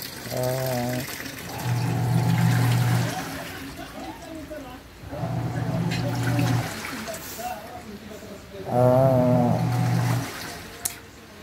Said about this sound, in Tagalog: i-drain na natin.